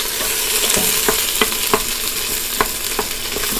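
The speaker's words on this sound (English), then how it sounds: "I'm just going to cook the veggies, moving them around every so often for about 3 minutes" Vegetables sauté in oil inside a pressure cooker, giving a steady close sizzle with occasional sharp scrapes and taps as a utensil moves them around.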